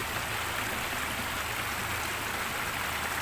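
Mountain spring water flowing down a river stream in Barangay Cumba, Batangas City, as a steady, broad rushing wash with no break, fairly close and alone without voices.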